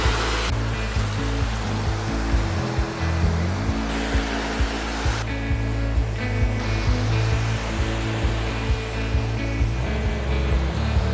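Sea waves break on the Kauai shore, a loud continuous roar of surf and rushing water with swells rising and falling close by.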